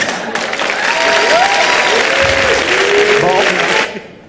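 Studio audience on a French television talk show bursts into loud, sustained applause and cheering mixed with voices, then cuts off abruptly near the end.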